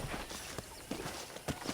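Horse hooves clip-clop at a steady walking pace in the Red Dead Redemption video game on a ranch, close and moderately loud over a faint ambient background.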